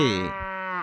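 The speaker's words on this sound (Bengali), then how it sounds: "গরু বাছুর" A single cow moos once, a short close, clear call with a falling pitch that lasts under a second.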